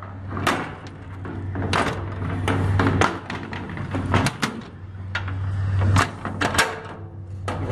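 Mechanical clunks and latches of a 2000 Barrett vehicle's rear door being worked, with a sliding rumble and a couple of sharp knocks over a steady engine hum.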